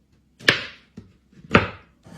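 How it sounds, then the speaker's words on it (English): A knife chopping regular chocolate chips on a cutting board: two sharp, distinct chops with softer taps between them, close and clear, with no talk. "I'm going to try to cut some regular chocolate chips"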